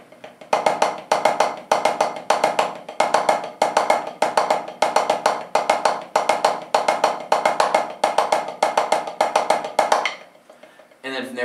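A snare drum plays a steady sixteenth-note pattern, louder accented strokes alternating with softer ghost notes, close and clear, stopping near the end.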